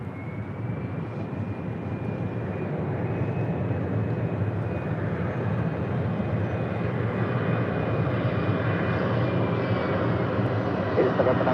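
A Southwest Airlines Boeing 737-800 arriving at LAX from San Jose, a steady loud jet roar with a faint whining tone that builds slightly over time, continuous and fairly close.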